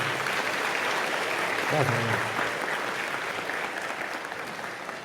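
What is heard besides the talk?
audience applause for brother Eduardo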